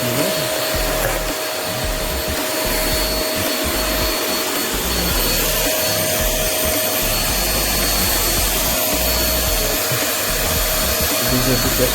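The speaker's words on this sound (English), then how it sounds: "Now I have power on the vacuum cleaner." A Eureka Forbes vacuum cleaner runs steadily and loudly throughout, a continuous close motor whine and airflow roar with a faint constant tone above it and no talk.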